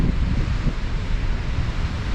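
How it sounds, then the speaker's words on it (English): Ocean waves crashing on rocks along the coast at Porto Covo, Portugal, heard as a steady, loud roar of surf with constant broadband wash and wind noise buffeting the microphone throughout. "watching the waves crashing on those rocks there"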